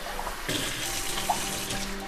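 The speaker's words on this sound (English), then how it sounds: "And then I'm gonna add some water." Water running from a kitchen tap while cooking a chicken bok choy stir fry, a steady broadband rush for about two seconds, close and fairly loud, with no talk.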